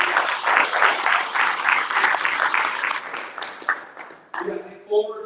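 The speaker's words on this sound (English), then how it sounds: "Round of applause." An audience at a live business-speaking event claps in a dense, steady burst that fades after a few seconds, and a speaker's voice comes in over the tail end.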